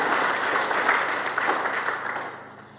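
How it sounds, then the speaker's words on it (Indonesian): Dense, steady applause fills a church worship service, with a congregation clapping together at full volume before the sound thins slightly at the end. "Tepuk tangan yang terbaik buat Tuhan."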